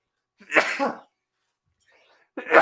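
A single burst of a sneeze up close, followed by a short pause and the start of another sharp vocal burst.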